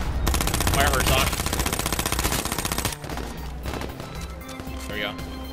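Rapid automatic gunfire rattles in a dense burst in the video game H1Z1, then gives way to sporadic shots and movement sounds while players talk excitedly over the action.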